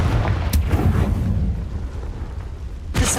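The Confringo blasting spell explodes in Hogwarts Legacy with loud, rumbling booms: a sharp burst, then a heavy low roar that fades, and a second blast near the end, with no talking.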